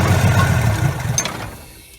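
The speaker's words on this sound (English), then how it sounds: "We're going to spray it in the intake, see if we can get this engine to light off." A 1968 Ford F100 left for twenty years in the woods briefly fires on carb cleaner sprayed into its intake, giving a rough, knocking engine run close by that fades away after about a second and a half.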